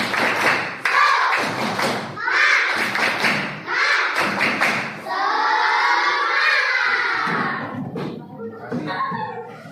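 A school class performs a rhythmic spirit clap, with short bursts of claps in a patterned beat mixed with children's voices chanting along, close and loud.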